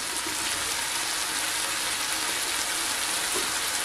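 Chicken livers fry in a pan with a constant, close crackling sizzle, an even hiss of spitting fat and moisture that carries on alone without any voices.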